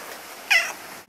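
A pet cat gives a single short, clear meow close by, against quiet room noise.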